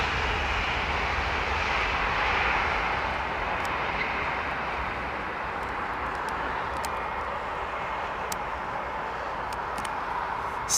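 A Boeing 757 jet flies over Battersea Park in London, a loud, steady engine roar that holds throughout with a slight swell early on.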